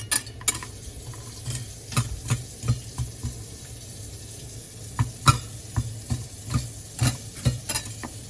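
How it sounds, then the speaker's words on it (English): Sugar melts and sizzles in a pan for homemade chili gummies, a faint steady hiss under scattered sharp taps and scrapes of stirring. "There's the sugar melting off."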